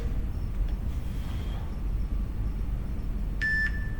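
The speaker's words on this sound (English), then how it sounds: "There's our timer." A workout interval timer beeps during a mobility exercise session, giving a short high electronic beep sequence near the end over a steady low background hum.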